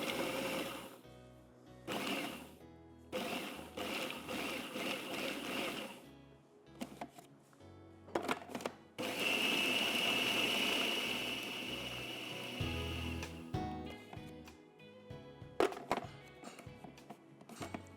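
A food processor pulses ingredients for lahmacun in a home-style kitchen, whirring in short motor bursts separated by brief pauses, with one longer steady run near the middle.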